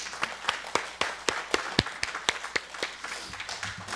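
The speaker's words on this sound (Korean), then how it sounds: "주님께 우리 박수로 영광 드리겠습니다." A congregation applauding in church, with a loose, moderately close patter of hand claps that continues steadily for a few seconds with no voices.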